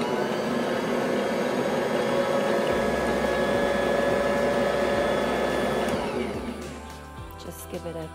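Bosch Universal Plus stand mixer running with the paddle attachment through royal icing made with meringue powder, a loud steady whirring motor whine that winds down near the end, followed by clinks and a voice speaking.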